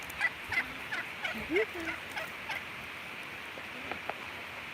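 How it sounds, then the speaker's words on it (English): Several turkeys gobble in short bursts near a homestead, the calls close and fairly loud, broken by brief speech from a person nearby. "Come on, turkeys."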